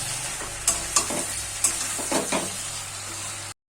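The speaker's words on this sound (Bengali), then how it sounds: "সর্ষে পোস্ত বাটা দিয়ে একটু নাড়াচাড়া করে দেব।" Mustard-poppy seed paste is stirred in a frying pan for a drumstick-stem chorchori, a spatula scraping in several distinct strokes over a steady close sizzle, which cuts off abruptly at the end.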